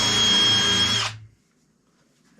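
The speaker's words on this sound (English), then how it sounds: "we're going to go ahead and re-drill this a little bit on the side there" A power drill re-drills into the side of a wooden birdhouse during a beginner woodworking build: a loud, close burst of whirring for about a second, then it stops abruptly into near silence.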